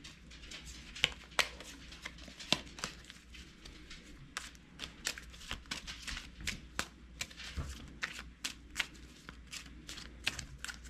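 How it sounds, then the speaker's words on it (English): Archeos Society game cards being shuffled by hand at close range, a run of crisp riffling flutters and sharp snaps repeating unevenly over about eleven seconds, with no talking. "we're going to shuffle them into one of the halves"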